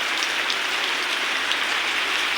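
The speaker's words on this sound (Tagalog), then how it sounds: "Tuloy-tuloy kasi yung ulan." Heavy, steady rain pours down without a break, a dense continuous hiss filling the whole moment, loud and close, with no voices.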